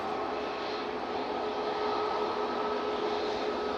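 An Etihad airliner rolls out on the runway at Manchester Airport, heard as a steady, broad jet roar from a distance. The roar holds at an even level throughout, with no voices.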